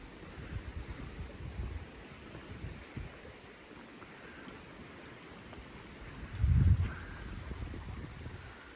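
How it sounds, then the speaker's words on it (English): Sheriff Run, a small creek swollen after heavy rain, rushes beneath a little footbridge in a steady broad wash of flowing water, with one brief louder surge partway through. "the water's flowing pretty good right now"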